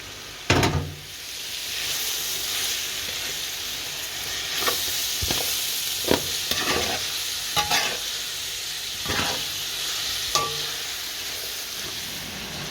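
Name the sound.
pepper frying in a pan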